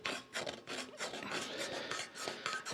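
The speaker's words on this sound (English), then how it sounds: "I'm going to take a Babbitt scraping tool here" A hand-held Babbitt scraping tool works over a poured Babbitt bearing surface for a cane mill, giving a steady run of close, dry rasping strokes with brief pauses between passes, no voices.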